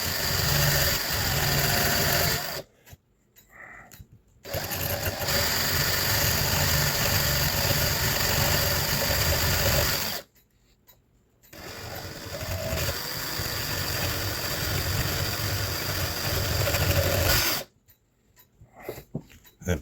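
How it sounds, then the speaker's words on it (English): A drill whirs loudly and steadily while working a small part of a 1960s–70s Dutch WUBA Sallander eight-day wall clock, running in long stretches broken by a few short pauses. "The piece keeps loosening up in my drill."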